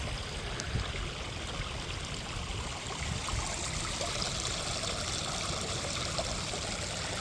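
A stream flows and trickles steadily on a hike in the Ozarks, a soft continuous burble of running water, fairly quiet and even, with no talking.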